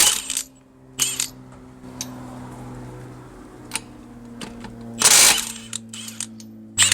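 A Milwaukee M18 Fuel impact wrench fires in two short, loud hammering bursts as it breaks nuts loose, with a low mechanical hum and small metallic clinks between them.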